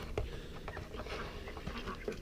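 Ducks quack softly amid splashing water, a few short calls over a low background murmur.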